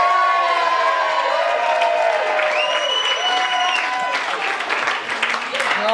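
Wedding guests applaud and cheer after a bride's speech at a reception, a dense close wash of clapping with whoops rising through the room, voices talking and calling out beneath it.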